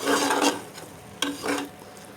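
Cauliflower meat curry with coriander being stirred and lightly fried in a pan, giving scraping strokes over a soft sizzle, close and steady with no talk.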